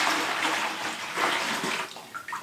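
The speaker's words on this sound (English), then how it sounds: "and then water goes in" Water is poured into a persimmon tannin mixture mixed with Bengara colouring for renovating an old Japanese house: a steady close splashing pour that runs continuously for a couple of seconds.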